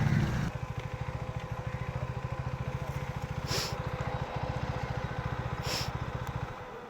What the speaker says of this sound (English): Oh, the other bikers are coming.